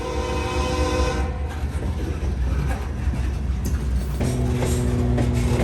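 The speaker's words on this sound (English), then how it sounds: "This grain train came loaded out of South Charleston a couple hours ago." A loaded CSX grain train out of South Charleston, run by an INO crew with foreign power, rumbles past close by and loud, its horn sounding steady tones at the start and again near the end over constant wheel and engine roar.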